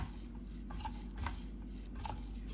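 A jaggery and flattened rice mixture being stirred in a pan for Goan godache fov, giving a soft, steady scraping and rustling that continues throughout, with faint sizzle-like hiss and no talking.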